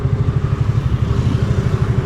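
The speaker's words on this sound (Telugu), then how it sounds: "సౌండ్ వస్తుంది నా బైక్ది." TVS Ntorq scooter engine running nearby with a close, steady, pulsing putter at an even rhythm, loud and alone without speech.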